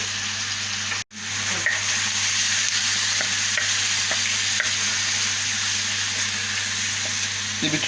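Kokoreç fries with garlic on a hot saç griddle, giving a loud, dense, continuous sizzle close by, with a short cutout near the start and faint scraping stirs throughout.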